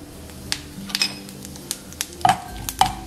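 Urad dal tipped into hot oil with cumin in a pan brings light crackles and spatters over a faint sizzle, punctuated by several clinks of a spoon against the metal pan, close-up with no talk.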